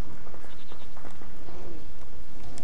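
Goat in The Witcher 3 video game bleating loudly and close, several quick repeated calls over game background sound.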